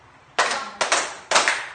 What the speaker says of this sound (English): let's give ourselves a twin clap